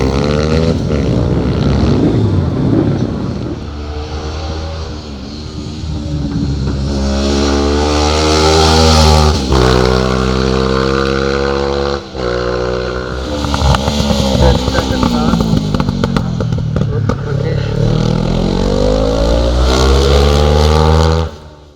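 A Honda 500 motorcycle at the Percy Duff Barbon hillclimb in 2021 roars loudly up the course, its engine revving hard and rising and falling in pitch through gear changes for the whole run.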